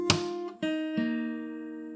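A fingerstyle acoustic guitar plays the second bar of the bridge of a song as three clear plucked attacks with a wrist thump, the final chord left ringing and sustaining close to the listener.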